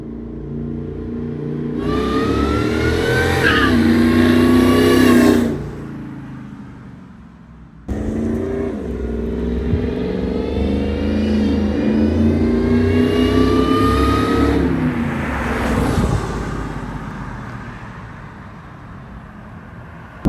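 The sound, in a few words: 2002 Ford F-150 SVT Lightning truck engine driving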